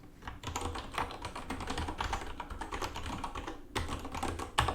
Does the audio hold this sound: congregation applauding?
no